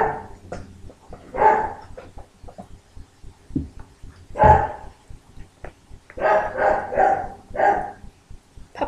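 A puppy barks in short, sharp bursts, a few spaced yips followed by a quick cluster of barks, close and loud.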